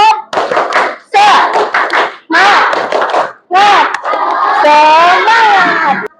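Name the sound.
classroom doing a rhythmic spirit clap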